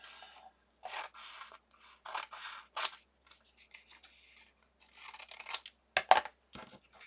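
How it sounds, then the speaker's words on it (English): Scissors snip and slide through paper in short bursts, several crisp cuts separated by quiet pauses, close and fairly faint. "Scissors."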